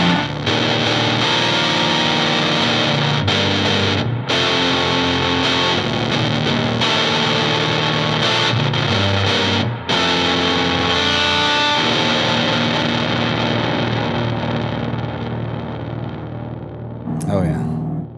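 Distorted electric guitar through a pedal blending normal and bright channels, playing chords and riffs, loud and continuous, with a brief pause near the end before a final strum.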